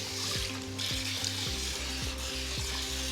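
Water rinses over a hair topper and extensions in a continuous close hiss and splatter, with soft background music beneath and no voices.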